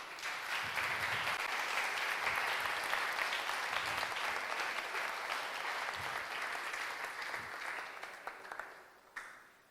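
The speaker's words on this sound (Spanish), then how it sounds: "Dele un aplauso al Señor." A church congregation breaks into sustained, dense applause at a sermon, steady for several seconds before tapering off at the end.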